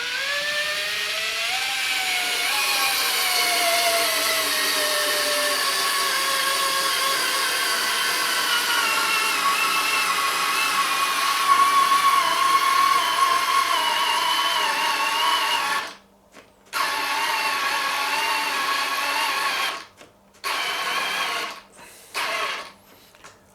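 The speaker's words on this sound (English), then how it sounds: "So I'm going to start off driving in a 3-inch screw." A Fanttik NEX L1 Pro 3.6V cordless screwdriver drives a 3-inch screw into wood with no pre-drilled hole, a steady whirring motor with rising and falling pitch, then several short stop-start bursts near the end.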